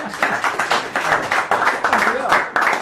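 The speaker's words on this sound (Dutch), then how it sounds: "Heren, applaus hè." A Limburg carnival crowd applauds at a humor award presentation, a dense, steady wash of handclaps running throughout with rhythmic bursts and voices mixed in.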